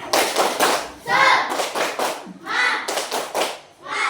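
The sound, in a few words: class clapping a spirit clap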